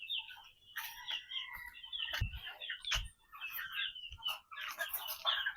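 Two-month-old McLean Hatch gamefowl chicks chirp and peep in scattered, overlapping calls, with soft cheeps and a few short thumps nearby.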